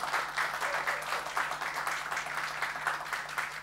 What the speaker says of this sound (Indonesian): saya ingin dengar tepukan yang meriah untuk Menteri Negara BUMN, Bapak Dahlan Iskan.